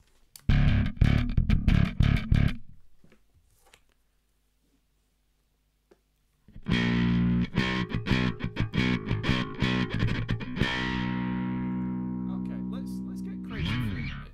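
Bass guitar runs through a Darkglass B7K Ultra plugin with the drive distortion engaged, loud gritty picked notes in a rhythmic burst, a pause, then a longer distorted riff ending on a sustained ringing note.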